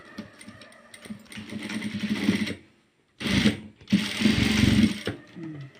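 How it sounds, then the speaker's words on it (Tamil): Sewing machine stitching a hair band from scrap cloth, running in a steady buzzing whir for about two seconds, pausing briefly, then starting again in two short bursts, close and fairly loud. "இதை திரும்பி மிஷினில் வச்சு ஒரு தையல் போடணும்"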